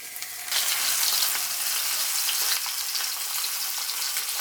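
Snapper fish dropped into hot oil for Jamaican brown stew snapper: a loud, dense sizzle bursts up about half a second in, then crackles steadily and close without letup.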